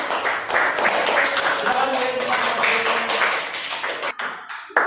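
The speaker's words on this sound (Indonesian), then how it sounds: "kita berikan tepuk tangan untuk Mas Nabil" Children applauding a classmate in a classroom: steady, loud clapping from many small hands runs for about four seconds and then tapers off, with voices murmuring underneath.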